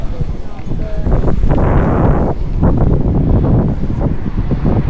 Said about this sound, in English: That gust of wind actually moved me on the side.